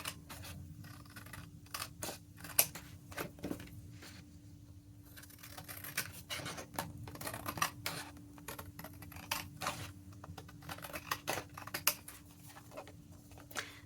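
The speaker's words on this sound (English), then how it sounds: "cut around the card" Paper scissors snip around a card cut from recycled packaging for an Edith Holden journal insert, a quiet close-up run of short irregular snips and light scrapes over a steady low hum.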